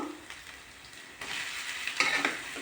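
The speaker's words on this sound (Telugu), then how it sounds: "ఆనియన్ పేస్ట్ వేగింది కదా, అప్పుడు చికెన్ వేసుకుంటున్నాను." Boiled country chicken hits onion paste in a hot pan, a soft sizzle swelling into louder frying with a few stirring scrapes, close and without talk.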